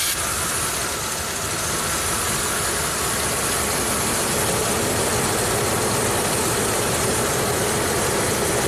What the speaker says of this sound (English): Start the truck up.